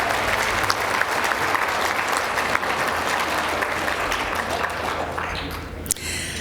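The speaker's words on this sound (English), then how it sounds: "A big round of applause for Katie." A university achievement celebration audience gives a sustained round of applause for an award recipient, steady and fairly loud, thinning slightly near the end with a few louder claps.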